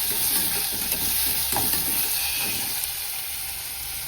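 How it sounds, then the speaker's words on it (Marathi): Finely chopped onion sautés in a pan for a spicy Maharashtrian ivy gourd curry, giving a steady close sizzle and frying hiss throughout with faint stirring scrapes. "आणि आता हा ना छान परतून घ्या. छान होतो ना त्याला, लाल छान होते हा कांदा."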